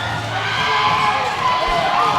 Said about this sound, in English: RV crowd getting hyped